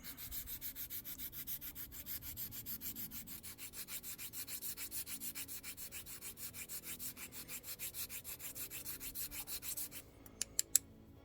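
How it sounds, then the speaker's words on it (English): Rapid, rhythmic rasping of a small file sanding a cabochon, steady back-and-forth strokes for about ten seconds, then a few sharp taps. "we take this little file and we just start sanding it"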